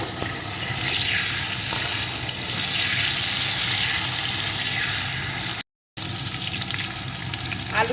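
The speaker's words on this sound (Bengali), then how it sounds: "এখন আলুটা লাল লাল করে ভেজে নেব" Cut potato pieces frying in oil in a pan, a loud, dense, hissing sizzle that runs steadily throughout with only a brief gap, close up and with no voices.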